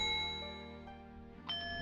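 Fairy bell chime from the video game The Legend of Zelda: Majora's Mask, bright sustained ringing tones that fade and then a fresh shimmering chime strikes near the end.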